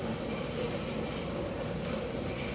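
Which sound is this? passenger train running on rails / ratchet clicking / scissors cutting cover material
passenger train running on rails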